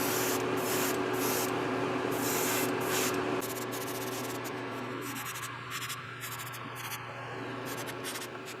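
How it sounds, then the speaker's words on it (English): A pearl silver base coat of paint is sprayed onto a swimbait lure, making a steady close airy hiss that eases slightly partway through and keeps going to the end. "I'm going to start by laying down a base coat of pearl silver"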